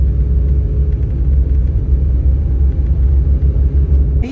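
Car on a road test after maintenance, giving a steady low engine and road rumble that runs evenly throughout, with no talk over it.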